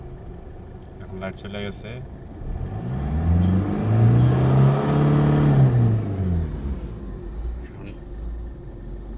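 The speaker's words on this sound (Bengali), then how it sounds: "এখন আরপিএম ফুল আছে" An engine revs up to high RPM and falls back over several seconds, a rising and falling rumbling whine with a few clicks in between, heard under someone speaking.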